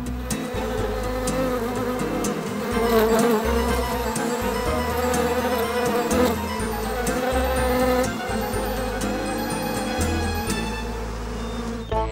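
Bees buzz loudly and continuously in a Postman Pat kids' cartoon, a dense droning swarm with shifting pitch, close and persistent throughout.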